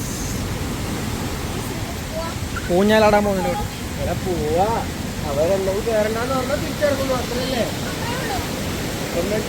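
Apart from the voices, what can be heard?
ocean waves on beach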